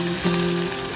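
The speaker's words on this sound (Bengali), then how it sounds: "এবার এই জলটা দিয়ে মা নাড়তে থাকবে।" Chicken kosha with spices and water stirred in a pan, giving a steady close sizzle with brief stirring scrapes and a faint humming tone underneath.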